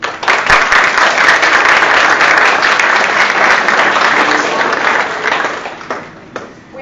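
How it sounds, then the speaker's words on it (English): An audience at a graduation-style educators event applauds loudly and steadily for several seconds, the clapping thinning and fading out near the end. "Let's applaud them now."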